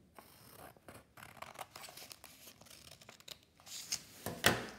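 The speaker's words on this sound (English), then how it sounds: "You then go down the line and make a cut from the dot to your line." Scissors snip through paper at a table in a run of quiet, soft cuts, ending with a couple of sharper crisp snips close by.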